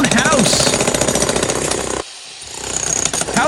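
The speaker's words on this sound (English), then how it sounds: "you have to jackhammer your entire concrete house?" A jackhammer pounds continuously and loudly at close range on a concrete house, a dense rattling roar that briefly drops away and then resumes.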